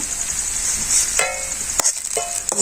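Fish frying in hot oil gives a steady, close hissing sizzle, broken by a few sharp clinks and scrapes of a utensil against the pan, with no one speaking.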